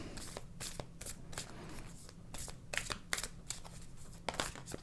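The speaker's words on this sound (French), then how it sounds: "Allez, on y va, je brasse les cartes." A deck of oracle cards is shuffled by hand, a close, soft and continuous riffling and slapping of cards in quick repeated bursts with no talking.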